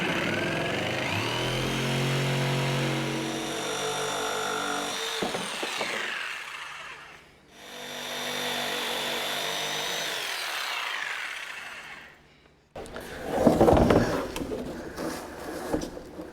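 Power tool cutting away a divider in a farm feeder: two sustained whining runs, each several seconds long and slowing at the end, followed by a rougher, louder burst of cutting, all close up.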